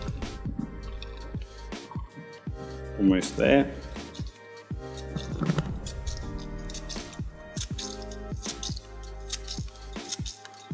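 Close, rhythmic hand pumping of a WACACO Nanopresso portable espresso maker, with squishy clicks and wet spurts as the last water is pushed through, under brief speech.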